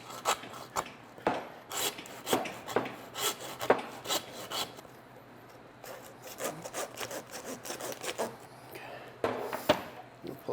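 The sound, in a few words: hand saw cutting through hog rib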